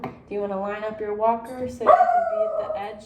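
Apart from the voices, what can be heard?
dog barking in home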